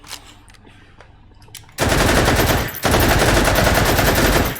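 Rapid automatic fire from a charged gun in the virtual reality shooter H3VR, two loud, dense sustained bursts separated by a brief pause, following quiet handling clicks.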